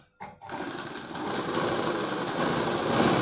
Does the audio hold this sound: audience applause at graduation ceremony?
no